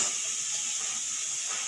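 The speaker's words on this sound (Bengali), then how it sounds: "আর এই দেখো আলু ভাজাটা চাপিয়ে দিলাম" Potatoes frying in a pan for a home-cooked Bengali meal, giving off a soft, steady, hissing sizzle that stays even from start to finish, with no one speaking.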